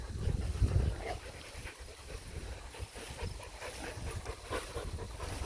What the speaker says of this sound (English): Moose is panting a little bit.